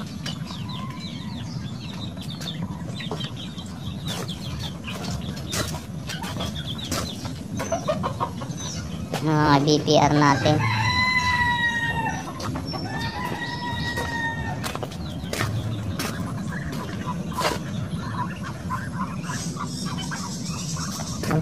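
On a flooded farm, chickens cluck near and far while a rooster crows clearly in the middle, a loud drawn-out call among scattered clucks; someone speaks briefly.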